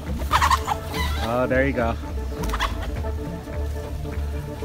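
Chickens on Hawaii's lava fields cluck and squawk loudly as they scurry away from an advancing lava flow, with a person speaking briefly among the calls.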